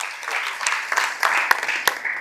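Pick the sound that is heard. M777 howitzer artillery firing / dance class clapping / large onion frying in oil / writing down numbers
dance class clapping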